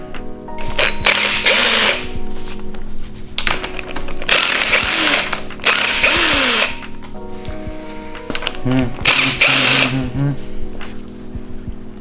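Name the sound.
ratchet removing thermostat housing from Nissan S13 engine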